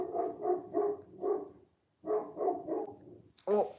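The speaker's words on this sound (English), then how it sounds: "she's barking at people" A pet dog barks repeatedly indoors at people, a quick run of four close barks, a short pause, then three more, followed by a brief higher yelp.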